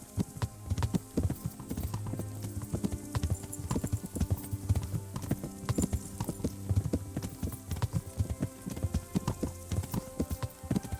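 Hooves clip-clop in a steady, uneven trot in the video game Kingdom Come: Deliverance, with a faint whinny and a soft rain-like patter in the background.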